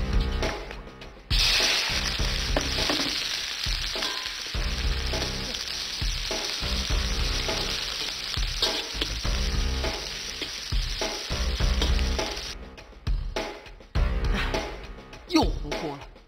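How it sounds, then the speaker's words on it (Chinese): Food is stir-fried in an iron wok with a loud, crackling sizzle and rhythmic scraping strokes of a spatula. Voices talk over parts of it. "还在用铁锅炒菜吗？"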